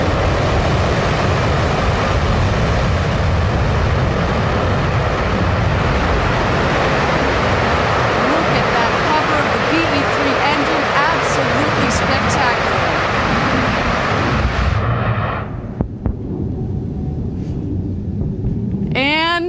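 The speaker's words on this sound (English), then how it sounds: "That motor just came in nicely." Blue Origin New Shepard rocket booster engine firing during its vertical landing, a loud continuous roaring rumble that cuts off abruptly near the end, leaving faint crackling and distant sound.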